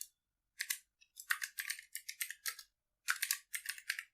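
Fingers type on a computer keyboard in quick clusters of light, crisp key clicks with a short pause midway, close and quiet with no talk.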